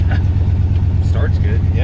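A 1968 Mercury Cougar engine, running without shocks, catches and settles into a steady low rumbling idle right up close, with faint voices briefly over the top.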